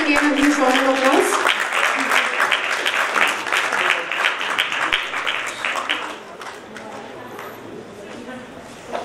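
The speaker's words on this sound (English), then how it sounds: "Once again, a huge round of applause." An audience gives a round of applause for a speaker at a book event, with loud, dense clapping that slowly thins and fades. A voice speaks briefly over the start.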